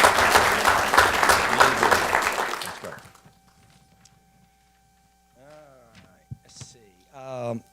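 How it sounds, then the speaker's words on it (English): Council meeting audience in North Augusta gives a round of applause, dense clapping for about three seconds that fades out, followed by quiet room noise and then voices talking. "So let's give a round of applause."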